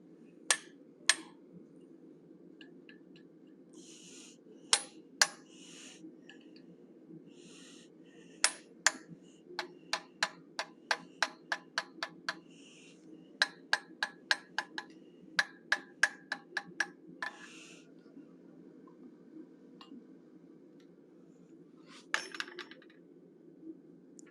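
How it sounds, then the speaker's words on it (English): A hammer strikes a chisel on hot iron, cutting the nostrils into a forged animal head, in a long series of sharp metallic taps, some rapid and evenly spaced, others isolated, over a steady low hum. "We use the same chisel to do his nostrils."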